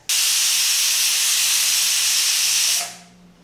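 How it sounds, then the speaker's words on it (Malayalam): A pressure cooker vents steam through its whistle while vegetable curry cooks, a loud, steady hiss that holds for nearly three seconds before cutting off and fading to a faint low rumble. "മൂന്ന് വിസിൽ കേട്ടിട്ടുണ്ട് നമുക്കിനി തീ ഓഫ് ചെയ്യാം"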